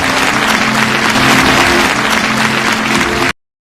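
Guests clap in welcome as a host steps forward under the spotlight, a dense, loud burst of applause that holds evenly for about three seconds, then cuts off abruptly to silence.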